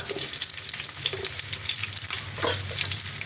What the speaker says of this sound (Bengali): তেলটা গরম হয়ে গেছে, এখন আমি শুকনো লঙ্কা আর একটা তেজপাতা দিয়ে দিলাম, দিয়ে এই পেঁয়াজ কুচানোটা দিয়ে দিলাম